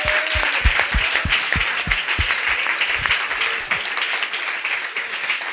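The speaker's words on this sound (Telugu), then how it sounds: "గట్టిగా చప్పట్లు కొడుతూ ప్రభు నామాన్ని" Congregation at a New Year worship service clapping loudly and rhythmically, a run of sharp, evenly spaced claps close by, thinning toward the end.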